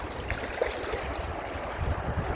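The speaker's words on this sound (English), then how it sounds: "See, now I'm already out of the rapids." Shallow, low-running water rushes over the Kern River rapids in a continuous, close-up wash, with a faint wind rumble and no talk.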